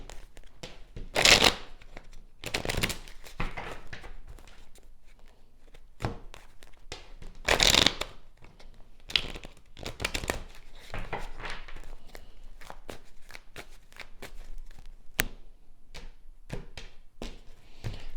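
Tarot cards shuffled by hand in a few distinct bursts, crisp riffling and snapping separated by quieter stretches of soft card handling and taps.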